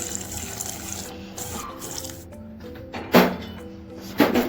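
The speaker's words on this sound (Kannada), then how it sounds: "ಇದರಲ್ಲಿ ಬಿಸಿನೀರು ಕೂಡ ಸೇರಿಸ್ತಾ ಇದ್ದೀನಿ." Hot water pours from a vessel into a pot of mutton sambar, a steady trickling splash with a couple of louder gushes toward the end.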